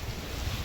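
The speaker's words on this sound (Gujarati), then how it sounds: "વાવાઝોડું જોરદાર આવી ગયું" Strong storm wind roars steadily during heavy rain near the Sanand–Viramgam highway in Gujarat, a brief, dense rush of gusting air buffeting the microphone with no voices.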